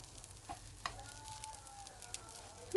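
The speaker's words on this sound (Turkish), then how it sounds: "Ve arkalı önlü çevirerek biraz daha kızartıyorum." A folded omelette börek filled with sucuk and kaşar cheese fries in a pan, giving a faint, quiet sizzle with a few soft clicks and a louder scrape or clatter at the very end.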